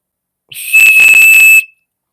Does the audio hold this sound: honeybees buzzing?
no